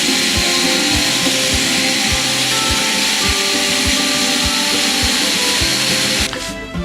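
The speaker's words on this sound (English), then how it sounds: "I cut out a couple of rings, smoothen the edges," A loud power tool runs continuously while cutting out rings and smoothing their edges for a hatch on a homemade catamaran, giving a harsh sustained whine with a steady pulsing beat. It stops abruptly near the end.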